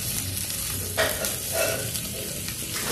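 Potatoes, onions and drumstick stalks fry in a pan with a continuous even sizzle and a few soft stirring scrapes.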